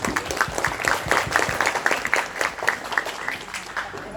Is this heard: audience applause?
yes